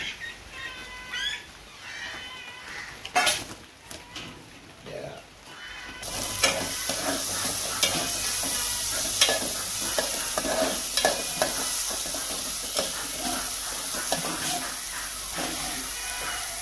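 Konkani-style sukka of clams (tisreo) frying in a pan with steady sizzle and hiss, with a spoon stirring and scraping at intervals. The sizzle grows louder and more constant partway through, close and dominant, with no talk.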